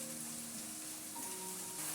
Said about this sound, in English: you want to keep close watch on it when you're sauteing your peppers and your onions